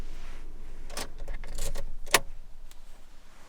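Keys to a Ford Transit jangle and clink close by in a few short, bright bursts, with one sharp metallic clack midway, over a quiet background.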